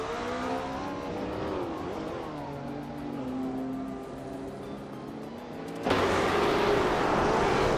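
A 1968 Ford P68 race car engine drones steadily at high revs with shifting pitch, then jumps sharply louder near the end as it roars by close.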